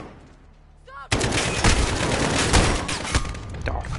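Dense bursts of automatic gunfire from Call of Duty: Warzone erupt after a quiet second and roar on continuously, loud and close, with a voice faintly mixed in.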